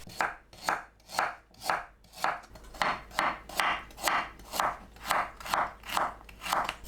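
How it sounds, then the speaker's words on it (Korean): A kitchen knife chops peeled ginger and pear into blender-sized pieces on a cutting board, crisp close strokes in a steady, even rhythm, about two per second, with no voices. "믹서에 갈기 좋은 크기로 썰어주세요."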